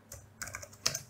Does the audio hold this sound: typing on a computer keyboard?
yes